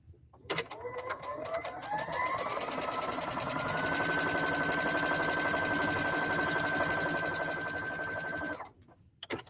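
A sewing machine stitching a playful Halloween-themed fabric border, its motor whirring up in pitch then running at a steady fast rhythm for several seconds before stopping, close and clear with no talk.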